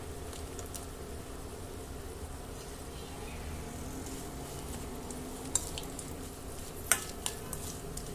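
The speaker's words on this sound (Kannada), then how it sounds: "ಕರಿಬೇವಿನ ಸೊಪ್ಪು ಯೂಸ್ ಮಾಡ್ತಾ ಇದ್ದೀನಿ ನಾವು ಇದಕ್ಕೆ ದ್ರಾಕ್ಷಿ ಹಾಕೊಳ್ಳೋಣ" Raisins and curry leaves fry in oil for a poha mix tempering, a soft, steady sizzle at low volume, broken near the end by a few sharp clicks of a spoon against the pan.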